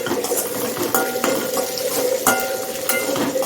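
Okra and small onions being sautéed in a pan, a spoon scraping and knocking against the pan in irregular strokes over a soft sizzle.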